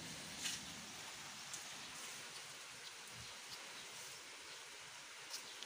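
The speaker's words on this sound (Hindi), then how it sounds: "जाओ अभी बारिश कम है, बहुत कम है।" Light rain falls steadily as a soft, even hiss, with a few faint drop ticks now and then; it is quiet and continuous, with no one talking.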